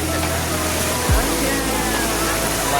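Water of Bhavli waterfall near Igatpuri, Nashik district, pours as a steady, dense rush of broadband noise, with one brief low thump partway through and no voices.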